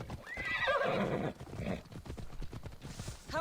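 A horse in the video game Assassin's Creed Odyssey gives a loud whinny, then trots with quick, rhythmic hoof clip-clops, close and clear with no talking.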